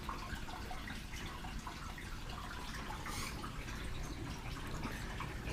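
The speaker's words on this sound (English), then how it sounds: "Just the drains are more noisy than I would like." Water flows steadily through the drains of a 500 gallon aquarium, a continuous faint gurgling rush with soft dripping and splashing, heard alone.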